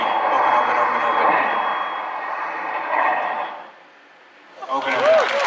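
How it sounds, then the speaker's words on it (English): Repeated electronic beeps from an altimeter warning during a skydiving stunt fall over Paris, a steady tone lasting several seconds, then a brief gap and a voice shouting near the end. "Hear that beep?"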